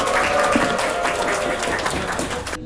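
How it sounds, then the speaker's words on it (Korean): Wedding guests applaud in a hall before the groom sings, a steady moderate wash of clapping with faint background tones, continuous and without talk, cutting off at the end. "여러분 격려와 용기의 박수를 한번 보내주시기 바랍니다."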